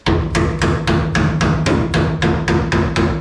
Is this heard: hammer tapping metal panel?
yes